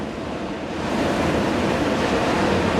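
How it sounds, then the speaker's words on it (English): Rough sea waves whipping up at the water's edge on Chemical Beach at Seaham, a loud continuous roar of surf that swells slightly after the first second, with no talking. "The waves are whipping up"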